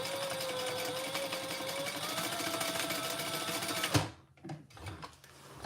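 Sewing machine stitching the Monarch Mini in a fast, steady run of needle strokes that stops abruptly, leaving a few soft mechanical clicks and handling sounds.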